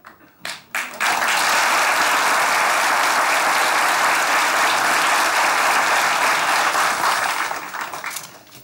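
Studio audience at a Turkish comedy sketch show bursts into loud, sustained applause that swells after a few scattered claps, holds steady for about six seconds, then tapers off near the end.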